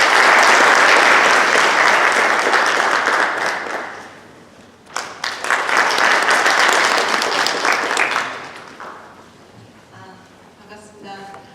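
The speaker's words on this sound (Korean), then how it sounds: "박수로 환영해 주시겠습니다." Dense audience applause welcoming a lawyer to the stage at a Korean immigrant church symposium in New Jersey, loud and steady for about four seconds, a brief dip, then a second full burst before fading under light sounds of movement.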